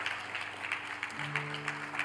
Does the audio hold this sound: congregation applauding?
yes